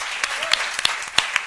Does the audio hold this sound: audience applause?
yes